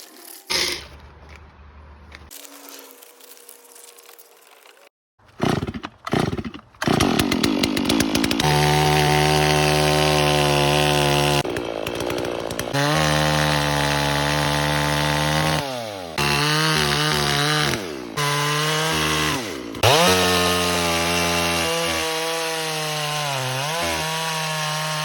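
A chainsaw runs loud and steady for most of the stretch with corn kernels heating on its muffler, revving up and dipping several times after a few short sputtering starts.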